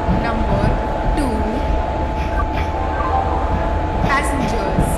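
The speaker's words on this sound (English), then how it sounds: "Train number 1, 2, 6, 5, 5, Garib Rath Superfast Express is arriving at platform number 2." Train arriving at a platform in an Indian railway video game, a continuous rumble of rolling carriages with a steady tone throughout while an announcer's voice speaks over it.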